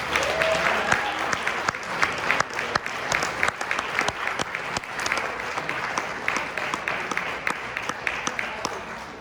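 An audience applauds CAFE, a schools organization, at a community event: a sustained round of crowd clapping with sharp individual claps standing out and scattered voices mixed in.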